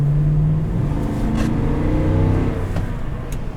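A 2010 Toyota Sequoia with the 5.7-liter V8 and 174,000 miles accelerating, a strong steady engine drone with rising tones heard from inside the cabin, loud throughout and without talk.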